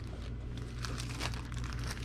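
A clear plastic bag crinkles and rustles continuously as a comic book is slipped inside, the crackling close and fairly steady with a low hum underneath.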